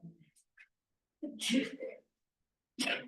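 A sudden sneeze bursts out near the mic, followed a moment later by a second sharp sneeze, with brief quiet between them.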